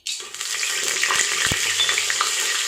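Close, steady sizzling of whole spices dropped into hot ghee for chickpea curry, a bright continuous crackle with a few small pops and clinks.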